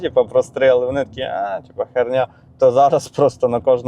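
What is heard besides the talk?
No everyday noise stands out behind the speech.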